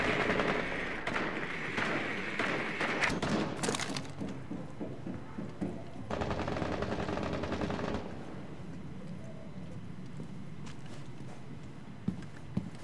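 Gunfire from the Twitch operator's weapon in Rainbow Six Siege, a dense burst of rapid automatic shots followed by scattered single shots and quieter footsteps, loud and close in game audio.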